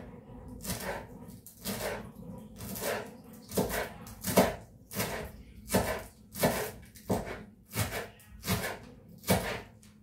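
Food being chopped finely with a knife on a board, about a dozen sharp evenly spaced thuds, close and distinct over a quiet background.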